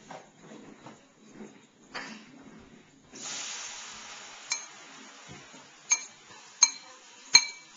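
Batter is mixed in a bowl, with a quiet scraping start, then a steady hiss, then a few sharp utensil clinks against the bowl that grow louder toward the end.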